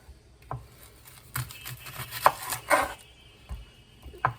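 Knife chopping onion on a board for Western Ukrainian borscht with beef, a few sparse, irregular cuts with short pauses between them, close and fairly quiet.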